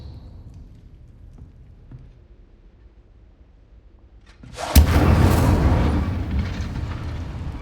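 Incendio fire spell in Hogwarts Legacy, a quiet stretch of low rumble followed by a sudden loud burst that swells into a sustained roaring whoosh of flame.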